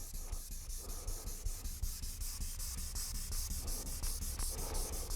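Rhythmic wet sanding of a 1965 Ford Mustang's paint, a block scrubbing over the surface with light pressure in steady strokes, close and fairly quiet with no talking.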